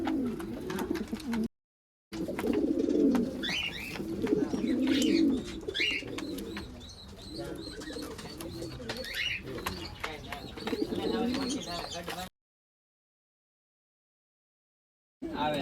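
Hungarian pigeons cooing at close range in a loft, repeated low throaty coos overlapping in uneven bursts with a few higher chirps, broken by two short silent gaps.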